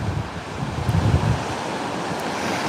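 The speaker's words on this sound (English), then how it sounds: "the wind's blowing hard out here" Strong wind buffets the microphone at a beach on Marco Island, Florida at sunset, a constant roaring rush with surf mixed in and no voices.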